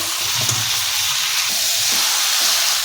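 Chicken and elephant foot yam frying together in spiced oil, a loud close continuous hissing sizzle with occasional soft stirring thumps.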